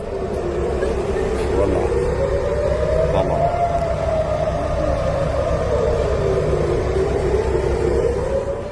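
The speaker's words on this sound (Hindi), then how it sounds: "तेल अवीव में हवाई हमलों के सायरन बजने लगे" Air raid sirens in Tel Aviv wail, rising and falling slowly in long sweeping tones, sounding steadily over a constant background rumble.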